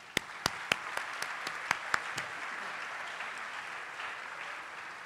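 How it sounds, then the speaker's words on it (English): The audience at a high school awards ceremony applauds: a few sharp, close claps ring out at the start, then blend into a soft, steady patter of distant clapping. "Please give them a warm round of applause."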